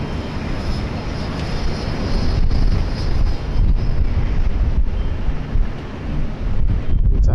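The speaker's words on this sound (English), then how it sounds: "waiting for the Jetstar 518 A320 to land" A Jetstar Airbus A320 on approach to land at Sydney Airport, heard as a steady, loud broadband roar mixed with heavy wind buffeting on the microphone throughout, with no talking.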